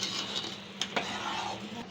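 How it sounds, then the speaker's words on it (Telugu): Tamarind gravy for Telangana fish curry bubbling in a pot at home, a steady simmering hiss with soft pops and a couple of brief clicks of a utensil against the pot. "మసులుతుందండి, ఇంకా కొంచెం మసలాలి."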